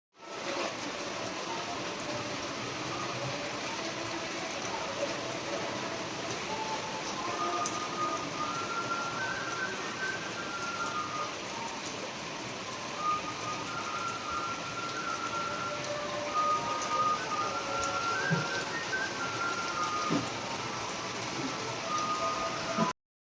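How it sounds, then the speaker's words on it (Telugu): Heavy rain falls outside a house, heard from indoors as an even, soft hiss that holds steady throughout with a few faint tonal sounds drifting over it. "ఇంకా బయటేమో అసలు ఫుల్లు వర్షం పడుతుంది"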